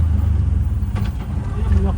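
An auto rickshaw engine runs close by on a forest road, a loud, steady, low rumbling throb that continues without a break.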